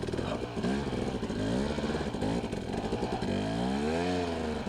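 A motorcycle engine revving hard while climbing a hill, rising and falling in pitch as the throttle is worked, close and steady throughout.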